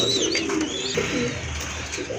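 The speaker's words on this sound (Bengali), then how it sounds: "আর এক জোড়া কবুতর দেখেন রাজগোল্লা কবুতর" Pigeons at a market stall selling domestic and foreign breeds coo in low, rolling murmurs that continue throughout amid dense, busy background noise.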